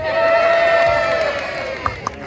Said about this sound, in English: You guys are going to cheer, and then we're going to start the show.